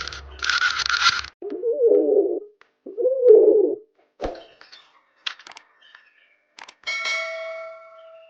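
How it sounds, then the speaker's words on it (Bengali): A pigeon coos in two soft, low, throaty phrases in the middle of the clip, set between short noise bursts, clicks and a brief tonal chime, with no talking. "এটা হলো কবুতর।"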